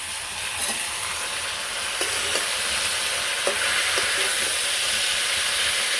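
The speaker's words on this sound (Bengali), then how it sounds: "আলুটা ভাজা হয়ে গেছে এর মধ্যে আমি যে এখানে হলুদ মরিচের ফাঁকি আর লবণ দিয়ে একসাথে দিয়ে সবজিগুলো দিয়ে দিলাম" Vegetables sizzle loudly with fried potatoes, turmeric, chili and salt in a pan, giving a steady close hiss with occasional soft stirring scrapes and no talking.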